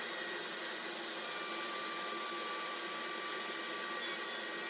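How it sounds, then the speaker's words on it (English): Steady, loud broadband roar of a Grizzly G0944 1.5HP wall-mounted dust collector pulling suction beside a router bit in a woodshop, continuous and unbroken with no talking. "And I set this as close as I can to the router bit to try to get as much suction."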